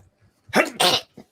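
A single sharp sneeze bursts out in two quick, loud puffs, followed by a small faint sound in an otherwise quiet room.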